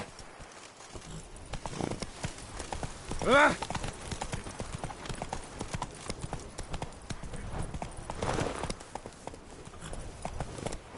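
Hooves of Roach, a horse in a video game, clip-clop in a steady walking rhythm throughout, fairly close, with a brief whinny-like sound and someone speaking over it.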